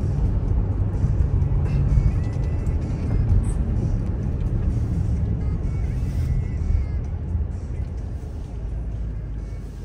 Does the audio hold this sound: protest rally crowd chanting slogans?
no